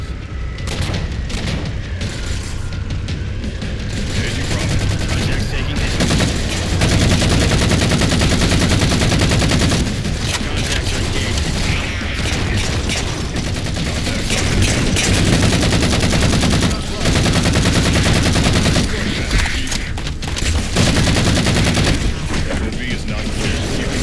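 Heavy, continuous gunfire and booming weapon blasts from Halo 4 PC gameplay fill the whole stretch loudly, with rapid automatic bursts layered over explosions and occasional faint voices beneath.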